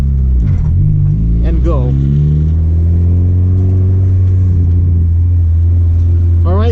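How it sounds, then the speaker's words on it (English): A manual car pulls away in first gear, its engine a steady low hum that swells and rises slightly in pitch as it gets moving, with a voice talking over it. "slowly release the clutch until your car starts moving. Once it moves, give it gas"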